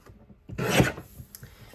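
A single quick slicing rasp as a paper trimmer blade cuts through a sheet of craft paper, close and fairly soft against a quiet room.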